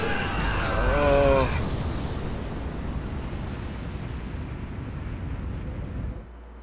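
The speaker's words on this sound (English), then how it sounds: "Nuclear missile ready." A nuclear missile explodes in the video game StarCraft 2 with a loud, rumbling roar that swells and then slowly decays before cutting off, with a brief tonal game sound near the start.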